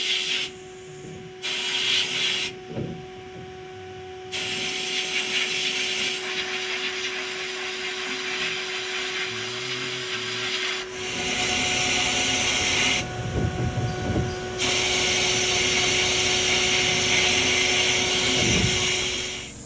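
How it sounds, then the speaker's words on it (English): Loud, continuous blasting hiss of a sandblaster cleaning rusty John Deere parts, surging and cutting out in bursts with short pauses, close and steady throughout with no talk. "Keefe's about to get all the parts cleaned up with a sandblaster"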